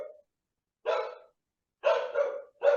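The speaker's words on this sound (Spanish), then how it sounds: "Uy, perrito." A small dog barks in short, separate bursts: one brief yap, a pause, then a sharp bark and a quick double bark, fairly clear and close, with no talk.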